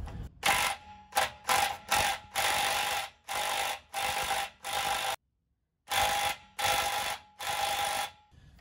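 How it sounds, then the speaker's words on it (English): Battery-powered impact wrench with socket adapters, loud repeated hammering bursts of about half a second each, in quick succession with short pauses between them. "It's a battery powered impact, so it's not that strong."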